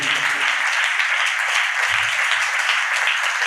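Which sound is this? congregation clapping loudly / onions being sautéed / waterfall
congregation clapping loudly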